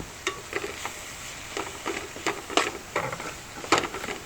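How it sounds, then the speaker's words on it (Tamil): Onions softening in a pan with mint added, sautéed gently without browning for a spicy chicken and chickpea gravy: a soft steady sizzle broken by repeated scraping strokes of a stirring spoon, close and moderately loud, with no talk. "ஆனியன்ஸ் ஆட் பண்ணிவிட்டு சாஃப்ட் ஆகிற வரைக்கும் வதக்குங்க"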